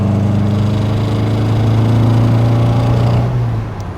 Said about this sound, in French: On la cravache un peu, ça monte dans les tours.